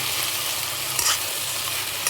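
Cut drumstick pieces sizzling in hot oil in a pan while being stirred, a steady close frying hiss with a brief scrape of the spoon partway through.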